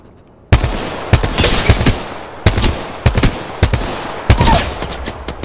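Loud, close bursts of automatic gunfire in a first-person shooter, several rapid volleys with short pauses between them.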